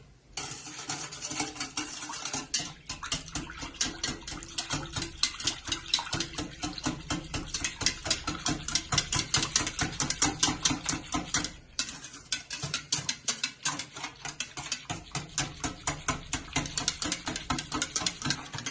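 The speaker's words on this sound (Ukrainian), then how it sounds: "це все діло ми збиваємо збиваємо звичайним вінчиком" Eggs and sugar for chocolate pancake batter whisked by hand with an ordinary whisk: fast, steady, rhythmic strokes against the bowl, close and continuous, with no talking.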